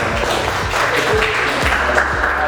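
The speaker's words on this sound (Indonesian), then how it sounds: "kita beri tepuk tangan ya" A lecture audience gives a short round of clapping, a dense steady patter of hands close by, loud and continuous for a couple of seconds with a few deeper thumps underneath.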